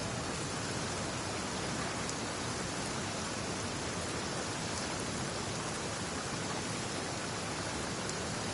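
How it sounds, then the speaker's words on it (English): Constant dense hiss of heavy rain pouring down in a PS4 video game, even and unbroken throughout, with no voices. "Let us find shelter from the rain."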